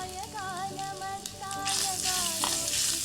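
Grated fresh coconut sautés in melted ghee for ukadiche modak filling, a steady close sizzle that grows louder and brighter in the second half. Tonal background music plays under it.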